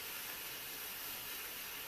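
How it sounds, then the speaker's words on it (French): Steam hissing steadily from a Fabiola M garment steamer, a continuous broadband rush held close and even throughout with no talk over it. "La vapeur s'échappe directement."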